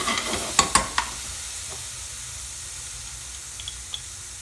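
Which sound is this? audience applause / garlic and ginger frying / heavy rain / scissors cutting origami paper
garlic and ginger frying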